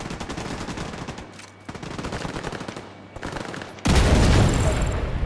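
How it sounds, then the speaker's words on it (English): Sustained automatic gunfire in the video game The Division 2 rattles steadily, briefly pausing, then a loud grenade explosion bursts in and its heavy rumble fills the end. "Let's throw a grenade first."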